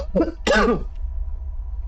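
A person coughs and clears their throat in a couple of short, close bursts, with a steady low hum continuing underneath afterward.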